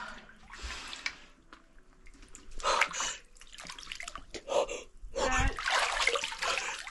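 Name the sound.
splashing cold water on head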